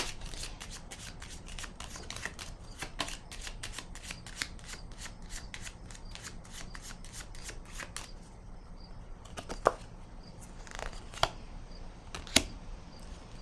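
Tarot cards being shuffled and laid down on a table in a rapid run of crisp riffling clicks, then a few sharper separate snaps as single cards are placed, with no voices.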